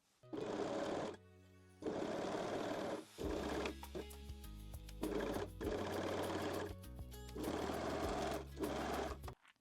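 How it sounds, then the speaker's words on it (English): Sewing machine stitching the center front seam of a lace bralette, running in several steady bursts of motor whir and needle clatter separated by short pauses. "sew the center front seam"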